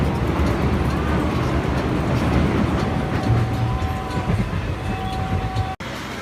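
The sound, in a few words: Jan Shatabdi Express train running on tracks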